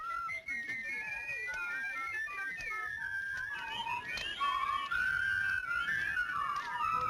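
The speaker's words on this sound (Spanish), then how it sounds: "¿Sabes silbar? Sí. A ver, silba." A person whistles a wavering, continuous melody, the tune gliding up and down and growing louder toward the end, with faint room noise beneath.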